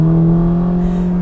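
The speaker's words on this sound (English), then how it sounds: "Ferrari engines make great noises." Ferrari Portofino M engine revving, a loud steady high-rev drone with strong harmonic tones, held close and continuous with no break.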